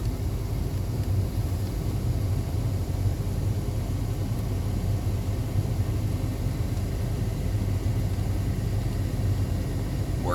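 Air conditioning blows inside a 1991 Cadillac Sedan Deville, a steady broadband airy hiss over a low engine rumble, constant and unbroken with no voices.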